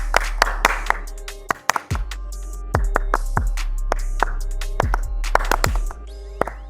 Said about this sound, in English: I'm gonna start clapping and I want you to try to time up the rhythm of my clap